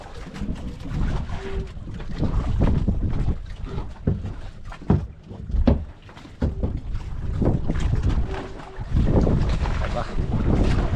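Steady wind buffets the microphone throughout, with water lapping and people talking nearby, a few brief gusts and knocks standing out.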